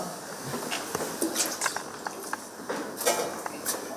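Holy water sprinkled by a priest at an Easter blessing of baskets in a village church, faint scattered drips and splashes in a quiet, reverberant space.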